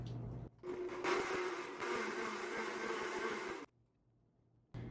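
A blender or mini food processor whirring as it purees romesco sauce, a steady loud motor roar running for about two and a half seconds before cutting off abruptly, heard alone.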